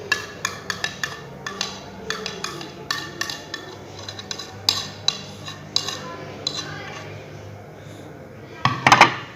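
Ingredients for a beef steam roast are stirred together with ketchup in a dish, giving repeated clinks and scrapes of a spoon against the container in an uneven rhythm, close and moderately loud, with a sharper burst of clatter near the end.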